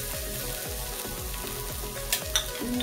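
Onions sizzle in hot oil while being stirred, with a steady frying hiss and a rhythmic, repeated scraping of the utensil, plus a couple of brief sharp clicks near the end.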